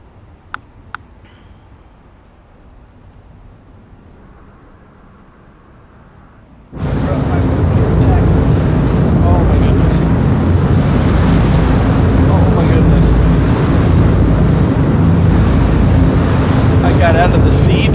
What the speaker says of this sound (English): Out of the seat and all I hear is your jet engines.